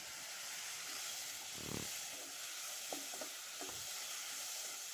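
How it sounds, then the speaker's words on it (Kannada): Palya of raw banana peel stirred in a pan, a faint continuous sizzle and hiss with a few soft scraping strokes and taps, quiet and close. "ಮತ್ತೊಮ್ಮೆ ಚೆನ್ನಾಗಿ ಮಿಕ್ಸ್ ಮಾಡಿ."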